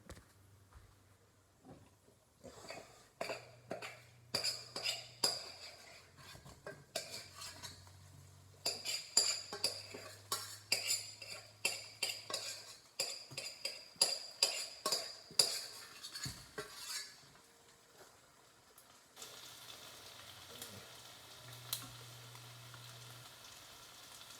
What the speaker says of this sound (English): Now I'm going to add my rice to the pan.